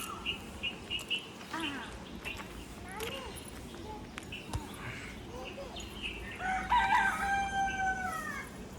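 A rooster crows loudly near the end, with clucks and chirps of chickens earlier alongside a few scattered voices in an outdoor yard at the Khodiyar temple in Dhamrod, Gujarat.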